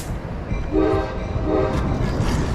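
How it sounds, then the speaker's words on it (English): A train rumbles steadily nearby a beach and sounds two short horn blasts over the continuous roar of the passing cars. "Don't mind the sound of the train."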